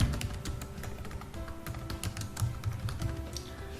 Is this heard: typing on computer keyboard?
yes